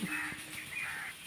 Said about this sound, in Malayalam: ഇപ്പോൾ കാക്കയാണ് കരയുന്നത്